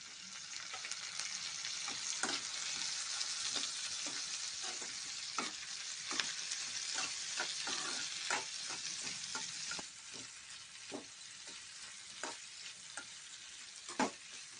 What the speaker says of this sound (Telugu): కరివేపాకు బాగా వేగిన తర్వాత టమాటో ముక్కలండి.